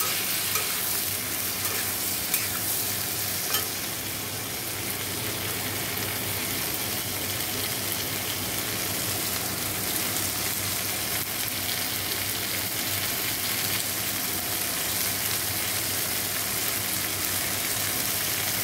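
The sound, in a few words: frying snake gourd and pointed gourd with salt and turmeric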